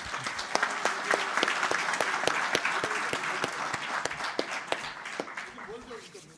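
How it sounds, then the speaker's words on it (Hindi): Audience applause fills a union bank employees' association conference hall in Jharkhand, a dense steady patter of many hands with sharp individual claps standing out, tapering slightly toward the end. "उसके लिए मैं एक जोरदार ताली आपसे"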